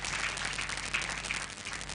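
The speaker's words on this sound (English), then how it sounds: "Please clap for her." A congregation at a livestreamed church service claps steadily: a dense, fairly quiet patter of many hands, without voices over it.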